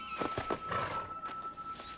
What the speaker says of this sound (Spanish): Montar caballo.